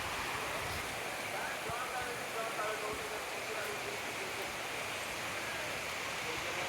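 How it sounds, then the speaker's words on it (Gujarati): Rain pours steadily at a Hindu temple in Rajasthan, making an even, dense hiss with no pauses. It fills the whole clip at moderate loudness. "અત્યારે વરસાદ આવી ગયો છે આપણે અહીંયા દર્શન કરવા આવ્યા ને એટલે વરસાદ ચાલુ થઈ ગયો છે"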